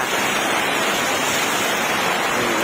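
Rainwater rushing and flowing down after a sudden downpour, a dense steady broadband roar that stays loud and unbroken throughout, with no voices.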